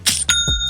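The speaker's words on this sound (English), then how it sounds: "That's the sound of another sale on Shopify." A bright two-note bell chime rings out clearly, followed by a softer tail, like a cheerful notification ding.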